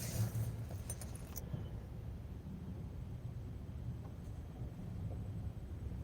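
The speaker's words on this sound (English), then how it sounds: "Turn my car off, man." A car engine idles low and steady, then keys jangle in a quick metallic clatter early on before fading, leaving a dull rumbling drone and faint cabin noise.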